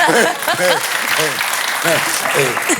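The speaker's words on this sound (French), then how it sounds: "Vous pouvez l'applaudir, hein, franchement." Studio audience applauding on a French television talk show, a steady wash of clapping throughout with a voice talking over it and cheering on the guest.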